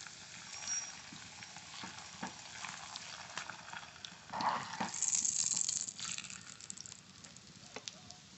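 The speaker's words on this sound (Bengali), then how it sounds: "এবার ভেজে নেব। সাদা তেল দেব" Aloo paratha frying in white oil in a pan, a soft steady sizzle with occasional crackles and a louder burst of spitting oil midway as it cooks.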